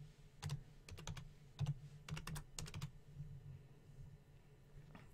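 Typing on a computer keyboard while entering a date in Photoshop, heard as quick clusters of soft key clicks in short bursts with pauses between them, close and fairly quiet over a low room hum.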